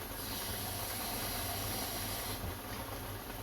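About half a cup of water hits a hot cast iron pan during a creamy bacon chicken dish and throws off a loud, steady hiss of steam that continues unbroken throughout, easing slightly toward the end.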